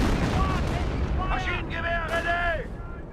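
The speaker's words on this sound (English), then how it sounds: "now I do have a barrage on top of the MG42 once again" Artillery barrage shelling a German MG42 machine-gun position in the real-time strategy game Company of Heroes, rumbling booms under steady battle noise while someone talks over it.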